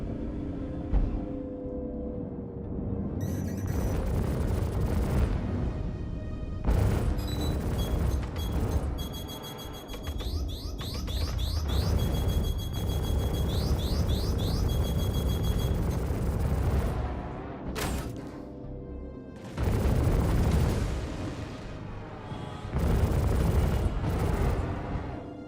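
Missile explosions in the Star Citizen space game, repeated heavy booms and rumbling blasts spread over the span amid electronic beeping alarms and engine drone.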